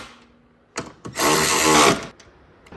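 A 10mm socket, apparently on a powered driver, snugs up headlight bolts on a Jeep Grand Cherokee: a few faint clicks, then a loud, close whirring burst just under a second long, followed by quiet.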